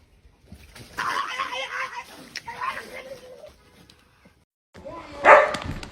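Dogs on a movie soundtrack bark in a few scattered bursts with whimpering tones, heard at moderate distance, then a louder sharper yip near the end.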